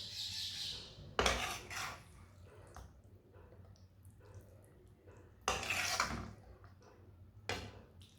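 Yogurt macaroni being served onto a plate, with a few clinks and scrapes of a utensil against dishware, two louder bursts standing out from quiet, sparse handling noise.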